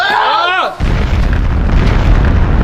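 A speaking voice cuts off as a loud, sustained video game bomb explosion roars and rumbles, filling the rest of the clip.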